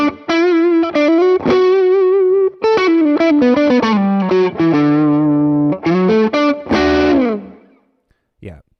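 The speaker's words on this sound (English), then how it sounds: "pretty great sounding Tube Screamer" An electric guitar played through a Tube Screamer overdrive pedal, giving a loud, gritty, sustained tone. Bent and held notes blend with quick picked phrases, then the playing stops and a moment of near silence follows.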